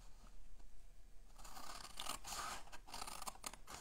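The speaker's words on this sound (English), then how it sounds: "Okay, so now we're going to take our snips" Metal snips cut through a corner of cardstock for a handmade greeting card, giving a few quiet crisp snips and scrapes close by with no talking.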